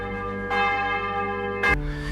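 Church bells in Rome toll for the death of Sultan Mehmed: a sustained, ringing metallic tone with two distinct strikes, the second brighter and louder, each leaving a long humming decay.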